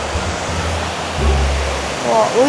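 A waterfall with a strong current gives a loud, continuous rushing roar up close, with faint voices briefly showing through the wash.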